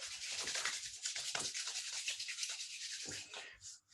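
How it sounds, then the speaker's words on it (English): Palms rub briskly together in a dry hand wash during a qigong exercise, a close, soft swishing friction in quick repeated strokes that fades out at the end. "Dry wash the hands."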